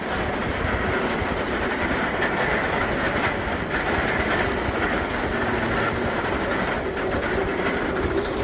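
A Siren's Curse roller coaster train at Cedar Point, ridden near the back: a loud, steady rumbling roar with rattling track noise that runs unbroken throughout, with no talking.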